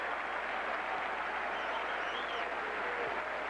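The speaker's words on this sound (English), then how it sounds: "Some are cheering and some are praying." Baseball crowd at Fenway Park during a 2003 Oakland–Boston playoff game, a steady wash of cheering and applause that stays even throughout, distant and crowd-wide with no single voices standing out.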